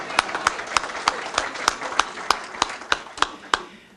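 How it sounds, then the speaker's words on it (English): Applause for Councilwoman Toles from a small gathering, sharp, sparse individual claps in a loose rhythm, fairly close, over a low murmur of voices. "Can we give Councilwoman Toles a round of applause?"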